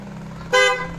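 A Honda Giorno scooter's horn sounds one short, loud, bright honk that rises abruptly over a low idling hum.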